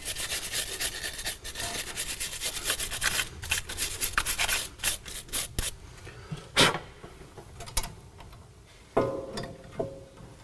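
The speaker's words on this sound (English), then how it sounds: "I'll clean the brake caliper with a metal brush." Metal wire brush scrubbing a brake caliper clean before new brake pads are fitted, giving repeated close raspy strokes in an irregular rhythm with a few sharper scrapes, no talking.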